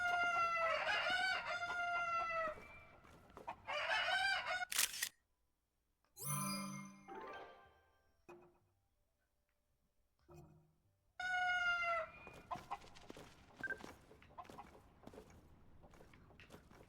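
Chickens in the Zelda Tears of the Kingdom game cluck and squawk in bursts of shrill calls, separated by quiet gaps and some scuffling game sounds, fairly close and loud.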